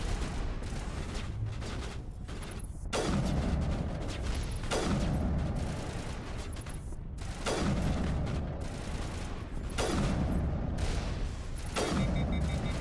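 Gunfire in the video game Mass Effect Legendary Edition, with bursts of shots repeating every couple of seconds over a dense, loud battle din.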